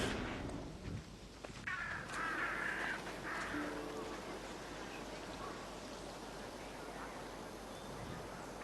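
A bird-of-prey call from an Assassin's Creed-style video game, a few harsh cries early on over steady, low game ambience with no talk.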